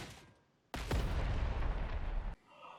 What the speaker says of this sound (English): Great time for a frag bomb.